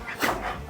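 Several excited dogs whimper and yip in short, high bursts near the listener, a brief flurry of eager canine cries.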